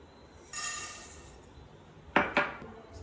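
Coriander seeds pour into a pan while garam masala is made, giving a bright rattling hiss followed by a couple of sharp metallic clinks from the pan.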